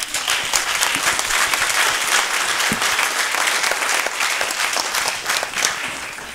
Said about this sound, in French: Merci d'avoir applaudi.